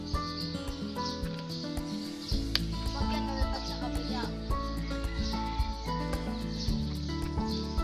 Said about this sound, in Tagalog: Bale, ayan po, nagkalat na yung mga manok dito.